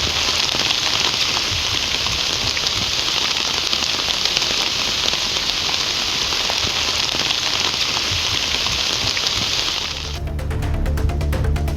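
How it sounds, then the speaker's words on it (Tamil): Heavy rain pours steadily in Mayiladuthurai district, a dense, loud hiss of drops hitting surfaces that runs without a break and changes character near the end. "மயிலாடுதுறை மாவட்டத்தின் பல்வேறு பகுதிகளில் பலத்த மழை பெய்தது"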